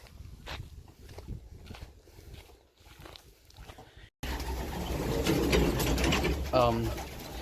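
Old racing pigeon breeders in a loft give soft coos and flutter amid light footsteps and shuffling; someone talks, and the sound grows louder and closer partway through.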